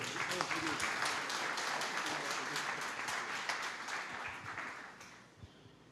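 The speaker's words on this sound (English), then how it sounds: "Let's give another round of applause." An audience at a book launch applauds, a dense sustained clapping from a crowd indoors that fades out over the final seconds.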